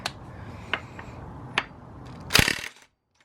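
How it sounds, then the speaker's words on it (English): Ratchet wrench loosening a nut on the front end of an Alta Redshift SM motorcycle during a lowering job: a few sharp isolated clicks, then a brief dense burst of ratcheting near the end, close and fairly quiet. "We'll remove the nut here"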